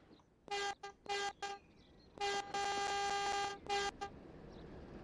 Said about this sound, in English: Horn for the crossing and for the train spotter.